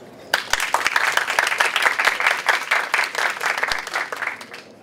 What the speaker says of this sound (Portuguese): pode vir uma salva de palmas.